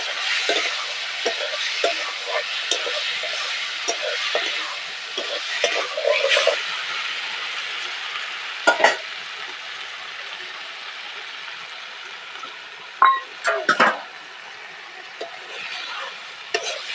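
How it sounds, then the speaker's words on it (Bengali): Marinated raw prawns frying in hot oil in a pan, a continuous close hiss of sizzling with occasional louder stirring scrapes and bumps. "তেলটা গরম করে নিয়েছি এই এইবার এই চিংড়ি মাছ যে মাখানো সেটা দিয়ে দেবো একটু নাড়ি ছাড়িয়ে নেবো"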